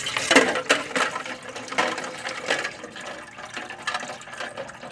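Ice-cold filtered water pours into a coffee percolator, a continuous splashing, gurgling fill with uneven surges and small clinks, close and alone without talk.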